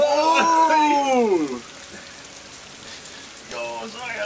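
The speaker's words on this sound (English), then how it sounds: "So now's the rain." Steady rain pours in the Tomb Raider video game, a dense hiss running through the clip, while a voice rises and falls loudly at the start and returns briefly near the end.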